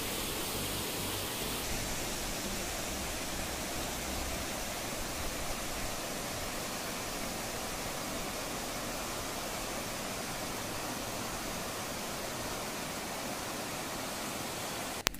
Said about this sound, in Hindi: अब आप यहां से देख सकते हैं चर्रेमर्रे जलप्रपात का नज़ारा।